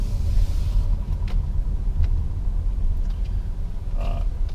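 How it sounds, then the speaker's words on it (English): A 2019 Infiniti QX50 is under way, heard from the cabin as a steady low engine and road rumble with faint ticks and clicks scattered through it. "we're now driving the 2019 QX50."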